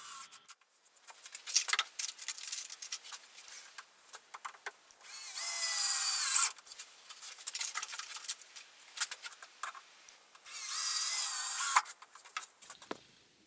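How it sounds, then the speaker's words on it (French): A power drill drives screws into the corners of a pallet-wood tabletop, with two sustained high-pitched whirring bursts of several seconds each between lighter handling clatter, close and fairly loud. "Finalement, je viens visser une vis aux 4 extrémités du plateau."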